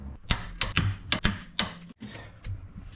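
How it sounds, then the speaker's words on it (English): Motor mount bolts on a 1996–2000 Honda Civic are tightened with a torque wrench, a close series of sharp ratcheting clicks in quick uneven bursts, with no talk. "I'm gonna torque these to 47 foot-pounds"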